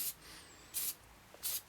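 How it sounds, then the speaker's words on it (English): CRC battery terminal protector sprayed onto car battery terminals in three short hissing aerosol bursts, each under a quarter second, with brief pauses between them and no talking. "spray these down"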